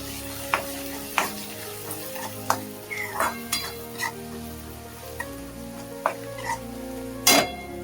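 Matki sprouts being sautéed with turmeric and coriander powder, a steady low sizzle broken by sharp spatula scrapes and clinks against the pan, spaced irregularly every second or so.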